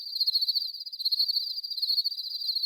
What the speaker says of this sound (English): Yep, it's crickets.